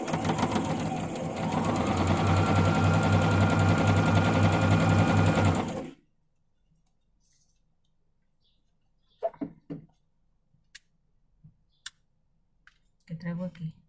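A sewing machine runs steadily for about six seconds while stitching a patchwork block, a loud continuous motor whir with rapid needle clicking, then stops abruptly; a few faint knocks and soft handling sounds follow.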